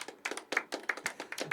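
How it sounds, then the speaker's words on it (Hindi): A small audience at an evening poetry open mic claps quietly, with a quick, uneven patter of separate hand claps that sounds like only a few people. "तालियां उठाइए, तालियां उठाइए।"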